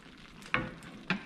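Spicy red sauce for deviled shrimp simmers in a pan, giving a low bubbling sizzle with two sharp stirring or scraping knocks close by, and no voices.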